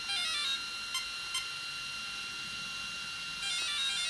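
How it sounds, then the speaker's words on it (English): Castle Sidewinder 4 ESC in a Traxxas Stampede emitting calibration beeps: a sustained high electronic tone with brief chirps, then a renewed tone near the end, clear and close with no talking. "After the beeps, let it go full neutral."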